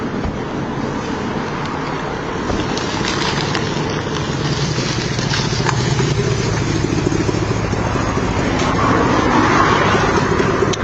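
A vehicle engine with an exhaust leak at the manifold runs loudly and steadily, a broad rough roar that builds slightly toward the end, with no talk over it.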